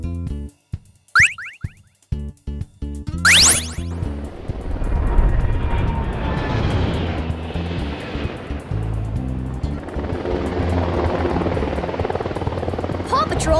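The Air Patroller aircraft in a Paw Patrol video game lifts off with a steady helicopter-like rotor whir, following a few short chimes and blips, continuing as a moderate drone.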